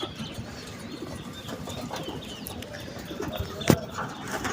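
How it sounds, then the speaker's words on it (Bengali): Pigeons around a house in the early morning, wings flapping in soft bursts with faint cooing and clucking, one sharp flutter standing out near the end, all fairly close and moderately quiet. "সকাল এসে দেখি বাড়ির পাশে কবুতরগুলা কি যে ডিস্টার্ব করছে"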